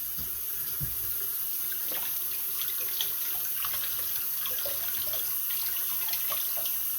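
Steady hot water pours from a tap into a sink for canning applesauce, a continuous hissing splash with small drips and clinks, no voices.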